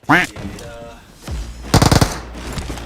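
Rapid automatic gunfire in a video game cracks out in one short, loud burst of about half a dozen shots, preceded by a brief voice and lighter sounds.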